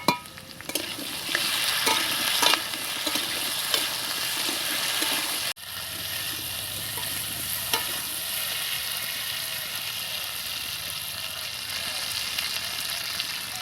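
Chilli paste and ginger paste frying and being stirred in a pan for a village-style fish curry, a steady close sizzle with scraping stir strokes, a brief break partway, then a softer, even sizzle.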